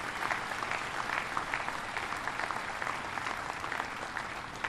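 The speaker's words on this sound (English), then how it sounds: "let's give these great builders a round of applause" A crowd at a shipyard submarine christening ceremony claps steadily for a few seconds, the dense patter of many hands heard at moderate distance with no one speaking over it.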